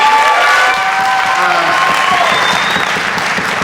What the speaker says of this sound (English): can we give a round of applause for art moving policy?